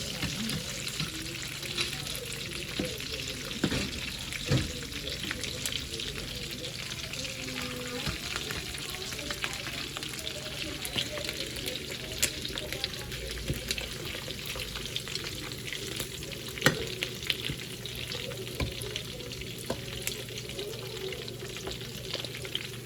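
Chicken pieces frying gently in oil over low heat for a dish with fragrant leaves, giving a steady soft sizzle and crackle with occasional stirring, no voices.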